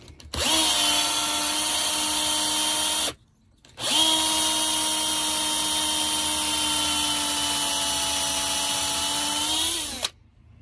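A Parkside power drill boring holes in wood, a loud steady high whine running for about three seconds, cutting out briefly, then running again for about six seconds before winding down.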